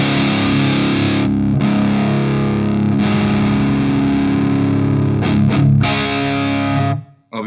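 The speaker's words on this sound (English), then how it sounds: "the more distortion you dial in, the more distortion you get" Electric guitar driven through a Suhr Riot Mini overdrive pedal into a clean tube amp, playing sustained distorted chords and riffs, loud and continuous with brief gaps before a closing cutoff.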